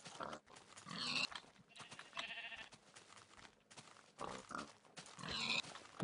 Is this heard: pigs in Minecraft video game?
yes